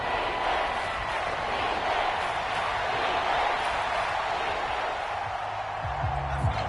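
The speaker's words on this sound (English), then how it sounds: "The Arrowhead crowd in full roar." A stadium crowd at Arrowhead roars in a football video game, a broad sustained wash of noise that holds steady throughout with a faint low thump near the end.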